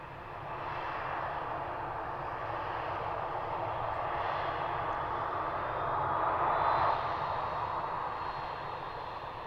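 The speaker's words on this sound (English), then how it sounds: "United taxiing to their gate, which is down at this end of the terminal." A United airliner taxis toward its gate at Harrisburg airport, its jet engines giving a steady, moderately distant roar that swells slightly and then eases, with no voices.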